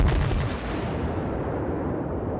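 Warspite battleship main guns fire shells in the naval combat game World of Warships. A single heavy, loud boom hits at once and trails into a long rumbling roar.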